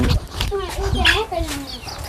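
Chickens clucking in short, choppy calls at close range, mixed with background noise and fairly loud throughout.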